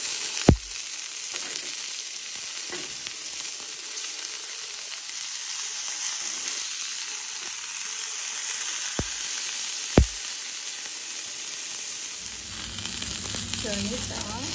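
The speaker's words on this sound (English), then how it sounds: "So let's put our marinated tenderloin" Marinated beef tenderloin sears in a hot pan with a steady, loud sizzle that runs the whole time, broken by a few sharp clicks and knocks, and a faint low rumble near the end.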